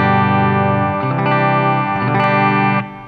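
A PRS Custom 24 electric guitar, 2008 model with a 10 Top, played on its bridge humbucker through an amp with effects: sustained distorted chords with chorus-like shimmer, ringing loudly and steadily before cutting off near the end.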